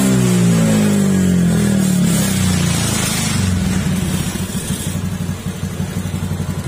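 A misfiring Honda Beat FI scooter engine recorded close at the exhaust, loud and revving down from a higher pitch into an uneven, stuttering idle with irregular pulses.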